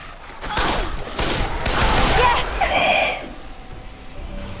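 A burst of rapid gunfire from a weapon in the zombie game Dead Island, a dense rattling volley lasting a couple of seconds, loud and close, with a brief voice sound beneath.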